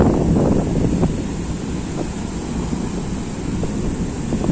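Rough surf on Varkala beach on a full-moon night makes a continuous loud roar of breaking waves, mixed with heavy wind buffeting the microphone.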